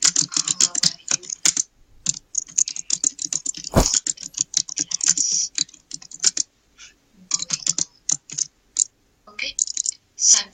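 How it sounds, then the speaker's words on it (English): Someone types on a computer keyboard in quick irregular bursts of close, crisp key clicks with short pauses and one heavier knock partway through. "In this tag, I'm typing some content like hello, how are you?"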